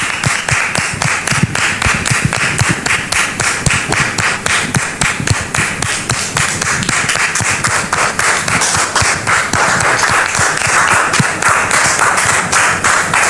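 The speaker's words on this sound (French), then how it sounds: "je demande au public de les recevoir avec applaudissements" An audience claps to welcome guests onto a stage set, a loud, close, rhythmic wave of applause with strong, regular beats that keeps going without a break.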